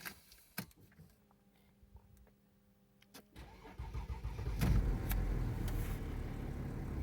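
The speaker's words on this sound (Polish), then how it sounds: "samochód zapali ładnie, pięknie." Quiet clicks and a faint whine, then a Mercedes ML W164's cold engine cranks and catches, settling into a steady, louder idle nearby.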